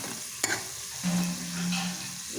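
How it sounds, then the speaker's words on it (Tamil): Pepper, ginger and a little chili powder sautéing in a pan for rasam, a brief soft sizzle with a spoon knock and a short scraping stir. "நல்லா வதக்கி எடுத்துக்கோங்க"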